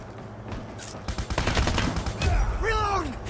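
Rapid gunfire from the mobile shooter game Call of Duty Mobile crackles in dense automatic bursts, loud and close, with game sound effects and a brief voice mixed in.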